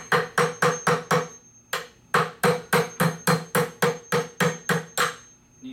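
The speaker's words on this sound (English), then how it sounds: "Using our hammer to drive the roll pin out." Sharp metallic hammer strikes ring out in a steady rhythm as a hammer drives a roll pin out of a hydraulic pump, about a dozen loud blows with a short pause early on, close and clear.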